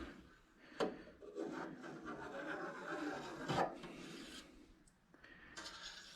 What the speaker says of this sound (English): Now we cut the curds.